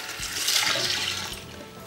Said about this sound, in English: We're about to pour water into the fountain.